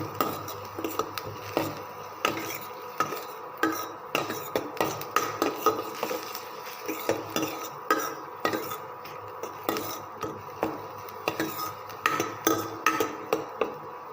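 Finely chopped tomato and onion being sautéed in a pan for tomato egg chutney, a spoon scraping and clinking against the metal in a quick, steady rhythm throughout, close and moderately loud, with no voices.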